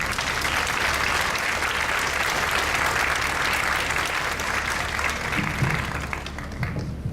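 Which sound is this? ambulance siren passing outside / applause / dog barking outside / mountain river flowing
applause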